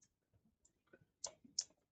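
Quiet keyboard typing while Java code is entered, a handful of irregular clicks and taps with a few sharper keystrokes near the end, no speech.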